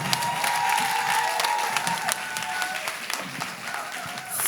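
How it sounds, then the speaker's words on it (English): A theatre audience at the Uganda National Theatre applauds steadily and loudly throughout, a dense continuous wash of clapping with a few scattered cheers mixed in. "Ladies and gentlemen, another round of applause to the team."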